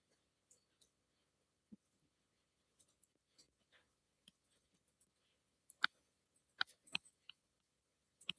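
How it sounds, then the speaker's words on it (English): Notes being written out during a math lesson, probably pen or marker on a surface: sparse faint scratches and light clicks scattered irregularly, quiet and close, with no speech. "So let's write this out."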